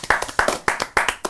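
A small group claps for a band in a studio talk show, four short bursts of hand claps in an uneven rhythm, close and fairly loud with no voices over them.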